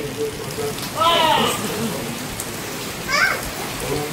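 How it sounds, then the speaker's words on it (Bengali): Heavy rain falling outside, a constant hiss heard indoors, with brief child-like vocal sounds popping up twice over the steady downpour. "বাইরে যা এখন ঝমঝমিয়ে বৃষ্টি পড়ছে"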